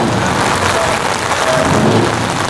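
Heavy wind and steady rain beat down outdoors at a truck park, a dense, continuous roar with no pauses, loud and close throughout.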